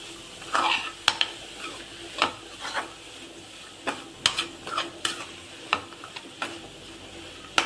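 A cabbage and toor dal curry is stirred in a pan, a spoon scraping and clinking against the metal in irregular strokes over a soft, steady sizzle, close and moderately loud with no talking.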